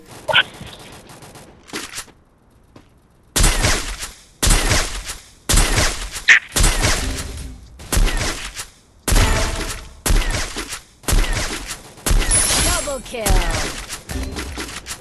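Bursts of gunfire ring out during a squad firefight in the Free Fire mobile battle royale game, with roughly ten loud, sharp rapid-fire volleys separated by short gaps, one faint shot heard early before the heavier shooting begins.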